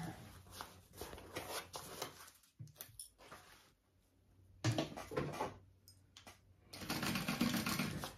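A sewing machine stitches the seams of a backpack in bursts of steady running that stop and restart several times, close and fairly quiet, with short pauses for handling the fabric between runs.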